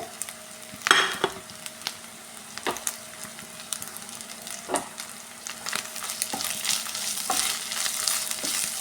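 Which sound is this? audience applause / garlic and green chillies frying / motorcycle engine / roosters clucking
garlic and green chillies frying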